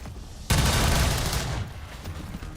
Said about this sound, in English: Let's just shoot the mech.